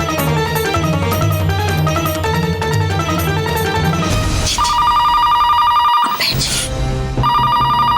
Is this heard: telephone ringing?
yes